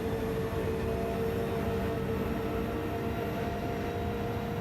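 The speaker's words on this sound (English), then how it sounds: "That sounds like the BRZ." Engine of a Subaru BRZ race car in Gran Turismo 7 lobby racing, a steady droning drone with constant mid-level roar and no clear revving changes, heard alone.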